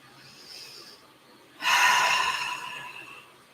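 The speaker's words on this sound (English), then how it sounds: "Nice deep breath in. Exhale, completely surrender" A deep breath during a gentle yoga session: a quiet, soft airflow, then a sudden louder, close, breathy rush of air that slowly tapers off over about a second and a half.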